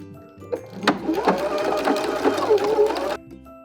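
A sewing machine stitches the seam while a dress is taken in along its existing seam line, a steady close whir lasting about three seconds with a faint hum before and after.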